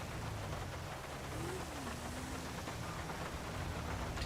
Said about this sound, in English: Even the rain sounds good in this game